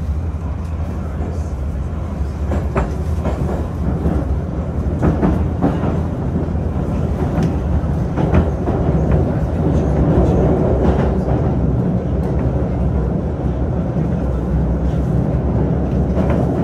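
A Moscow 2020 metro train runs counterclockwise on the circle line, a continuous low rumble with scattered clicks and rattles from the carriage that swells slightly as it goes.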